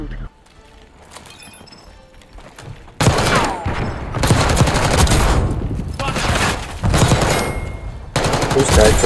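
Shotgun fire in a Call of Duty Search and Destroy match: loud, rapid bursts of blasts after a quieter opening, with gameplay noise and a player talking over the shots.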